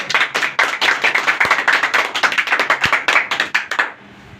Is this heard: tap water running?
no